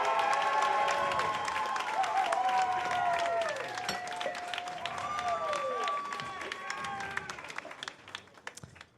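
A live crowd at a pun tournament semifinal erupts in loud cheering, whooping and applause to vote for a contestant, a dense roar that holds steady, then thins and fades toward the end.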